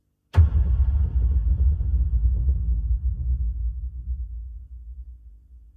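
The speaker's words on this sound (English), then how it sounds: "Then I wanted to add the cinematic hits, a hybrid drum. Imagine a huge taiko drum," A single huge, deep hybrid cinematic drum hit like a taiko booms out, followed by a long rumbling echo that slowly fades over several seconds.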